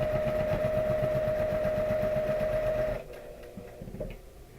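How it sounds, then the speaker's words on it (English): A sewing machine runs steadily with needle and bobbin stitching together in a fast, even mechanical rhythm, close and fairly loud, then stops abruptly, leaving quieter handling noises. "That sounds like the bobbin and the needle are working together."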